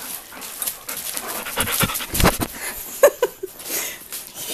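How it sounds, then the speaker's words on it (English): An adolescent husky pants at close range, quick irregular breaths with a few sharper huffs and faint whimpers, with no talk over it. "Was it this adolescent husky?"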